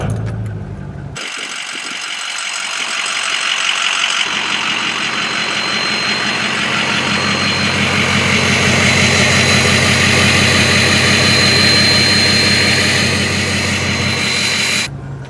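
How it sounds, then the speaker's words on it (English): A 6.0 diesel pickup truck engine cranks, catches and settles into a loud, steady idle close by, its rough mechanical clatter holding on for many seconds before cutting off abruptly at the end. "Let's get the truck started here."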